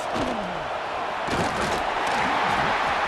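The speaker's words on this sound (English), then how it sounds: "Listen to this crowd just shaking the girders of this place, trying to help their defense." Stadium crowd roaring at a Wisconsin at Ohio State college football game, a dense, steady wall of cheering and noise that holds loud throughout, with a few sharper bursts and thuds rising out of it.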